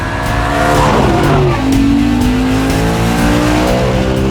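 An Audi RS4's high-revving V8 engine roars loudly up and down through the revs, with a brief tire squeal, up close and without voices.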